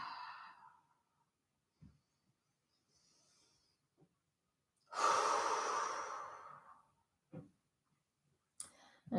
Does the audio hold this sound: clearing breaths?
yes